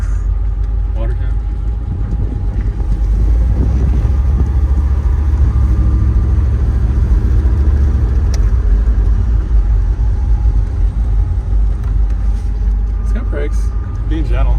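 The Guanci SSJ prototype car, the so-called Corvette killer, drives with a loud, continuous low engine rumble heard from inside the cabin, with a voice speaking over it.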